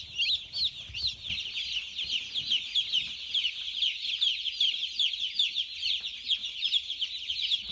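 About a thousand day-old chicks cheep in a brooder, a dense and continuous chorus of high, overlapping peeps that never lets up, close and fairly loud, with no one talking.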